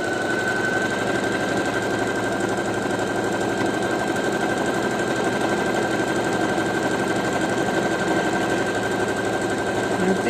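A new domestic sewing machine stitching a one-step buttonhole, a continuous fast mechanical whir with rapid needle chatter, close and steady, with no pauses.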